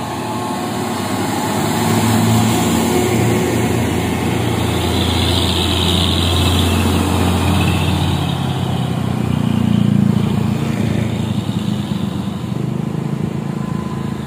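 UD Quester truck engine labouring on a winding uphill road, a loud continuous low rumble and drone that swells around the middle and again later as it passes close, with no voices.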